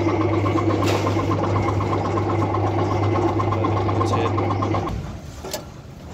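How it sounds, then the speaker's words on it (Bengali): An electric rod-bending machine bends steel rods into rings with a steady, loud motor drone and rhythmic mechanical chatter, then winds down and stops near the end. "আমরা এই ব্যান্ড মেশিনের সাহায্যে কীভাবে রড ভাঁজ করা হয় সেটা দেখবার চেষ্টা করব।"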